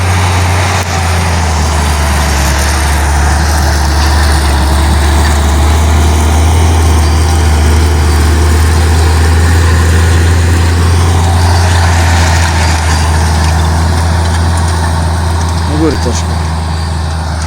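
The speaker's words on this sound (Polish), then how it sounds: "Zaraz posłuchamy może troszkę dźwięku wydechu, jak będzie słychać." A Ślązak 8190 tractor's diesel engine rumbles steadily at close range, a deep constant exhaust drone running throughout with no break.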